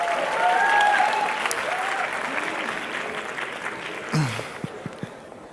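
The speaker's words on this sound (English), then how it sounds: "Also a big applause" Applause rises from the audience at the PES Election Congress 2024, a broad wash of clapping that gradually fades, with brief louder bursts and a voice near the end.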